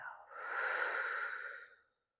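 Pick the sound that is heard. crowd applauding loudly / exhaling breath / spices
exhaling breath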